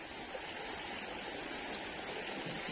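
Steady, loud rushing floodwater fills the whole clip, a dense broadband roar like a fast-flowing torrent close by, with no talking, in Njeezhoor, Kerala.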